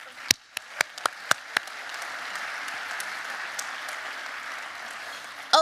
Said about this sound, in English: let's all give her a round of applause